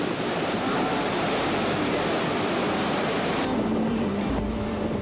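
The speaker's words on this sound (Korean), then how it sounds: "산에서 내려오는 물로 폭포수 밑에서" Mountain water plunges down a waterfall in a steady, loud, continuous roar that fills the whole clip, with no voices.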